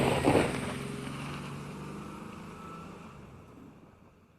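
Mazda MX-5 Cup cars fire up in iRacing, a burst of engine noise that settles into a low idle drone and slowly fades away over a few seconds.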